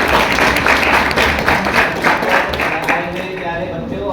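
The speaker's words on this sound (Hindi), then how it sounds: "तो इनका भी एक बार वेलकम ताली" Welcome applause at an Environment Day children's painting event: a room of people clap steadily, and voices talk over it toward the end.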